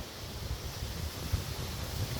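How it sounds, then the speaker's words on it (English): Wind blowing through a garden produces a continuous rushing roar with low buffeting gusts against the microphone, steady and without voices. "It's still so windy, you guys."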